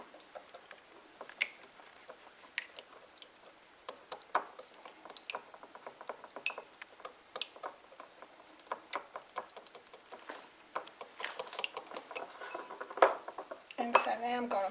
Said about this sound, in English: now then I'm going to beat my 2 eggs.